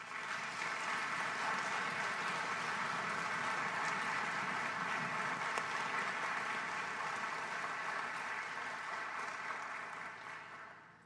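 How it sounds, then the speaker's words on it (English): Applause from a concert audience after a wind band performance, an even, distant-sounding wash of many clapping hands sustained for about ten seconds before fading out. "Let's give them all a nice round of applause."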